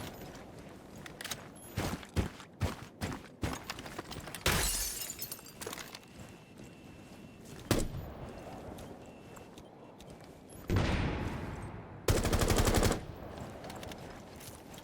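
Rapid gunfire bursts crackle in Rainbow Six Siege, with sharp clustered shots, a few longer sustained volleys and breaking-glass-like impacts, moderately loud against quiet gaps.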